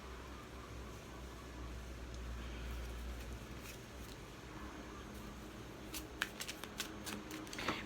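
Tarot cards being shuffled and drawn by hand in a reading, a soft steady riffling rustle close by, ending in a few sharp card snaps and flicks, with no talking.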